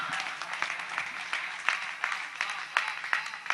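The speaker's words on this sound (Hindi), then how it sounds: "तालियां आप भी बजा सकते हैं" Audience applause at a poetry recitation, a light, steady patter of many hands clapping at moderate distance, with a few sharper claps standing out.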